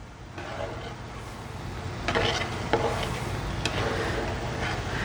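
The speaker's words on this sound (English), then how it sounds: "I can hear it sizzling a little bit more." Sausage sizzles in a hot pan with wine cooking down, a steady close crackling hiss with a few sharper pops and scraping stirs, no talking.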